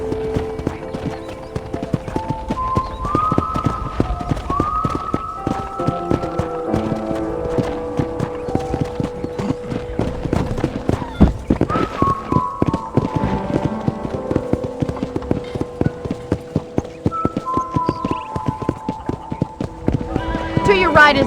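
A horse ridden across a ranch in Red Dead Redemption 1 Remastered on PC gives a steady run of clip-clopping hooves with occasional whinnies. The hooves play against game music and voices throughout.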